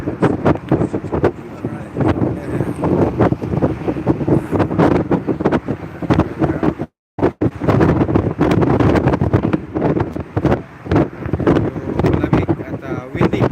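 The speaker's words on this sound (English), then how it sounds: "Guys, windy ngayon dito sa Golden Gate." Strong wind buffets the microphone near the Golden Gate Bridge in San Francisco, a loud continuous rumble with gusty surges and one brief dropout, while people talk throughout.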